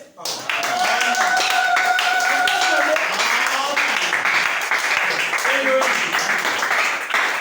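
A church congregation applauding steadily, loud, dense clapping that runs almost the whole time, with a voice speaking over the applause.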